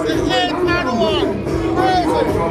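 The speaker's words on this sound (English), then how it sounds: "I see the crowd is popping, everybody's having a good time" Dense crowd chatter at the 8th annual Dons & Divas AZ 2018 Elegant Affair event, a steady, loud babble of many overlapping voices filling the whole stretch.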